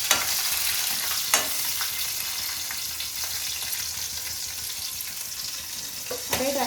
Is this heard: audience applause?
no